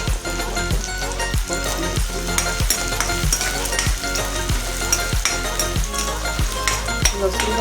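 Onion and garlic sizzle in hot oil in a kadhai, a steady close frying hiss punctuated by regular clinks and scrapes of a spoon stirring the pan.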